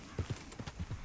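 Horse hooves clip-clopping in Red Dead Redemption 2, a quick run of soft, close, evenly spaced hoofbeats at low volume.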